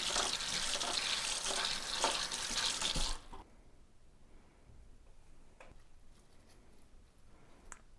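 Tap water runs steadily over a bunch of fresh thyme being rinsed at a kitchen sink, a soft continuous splashing for about three seconds, followed by quiet handling clicks once the water stops.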